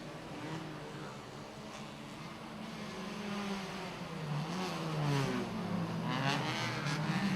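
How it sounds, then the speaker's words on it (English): A safety car powers away at a motor race in the PT Maxnitron Racing Series, engine revving higher and growing louder across the clip, with rising pitch sweeps near the end over a steady background roar. "Safety car going to power away."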